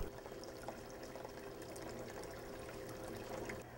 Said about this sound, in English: This is a demonstration of a stream.